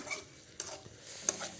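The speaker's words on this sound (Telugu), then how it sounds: "పచ్చివాసన పోయి బాగా ఏగనిచ్చి మగ్గినేద్దాం." Chicken frying in a pan with a quiet, steady sizzle, broken by a few soft scraping clinks as it is stirred.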